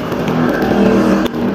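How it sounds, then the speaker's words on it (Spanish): A motorcycle passes close by on a street, its engine a loud, steady buzzing drone for the whole short stretch, with no one talking. "Pasó una moto. Hay motos."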